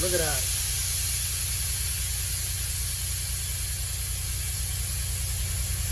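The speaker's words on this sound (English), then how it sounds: "This is regular idle, and it's about to cut out." A vehicle engine at regular idle gives a steady low rumble that runs throughout, with a brief voice speaking at the start.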